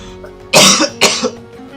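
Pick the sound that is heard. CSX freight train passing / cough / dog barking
cough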